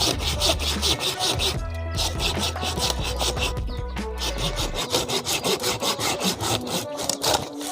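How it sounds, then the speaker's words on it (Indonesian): A Streblus asper bonsai stump being cut level with a hand saw, loud rhythmic rasping strokes repeating steadily and close, alone without talk. "Perhatikan terus, ini dipotong merata."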